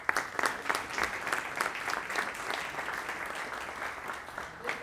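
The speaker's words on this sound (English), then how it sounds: "This applause is for you." A luncheon audience at a Kansas City diversity business summit claps for the keynote speaker; dense, steady applause fills the room at moderate loudness, with scattered sharper claps standing out.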